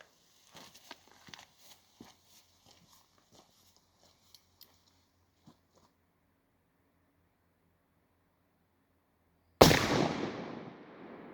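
A single loud black powder muzzleloader gunshot, sharp and close, with a rumbling decay after it, following several seconds of quiet with faint small handling clicks.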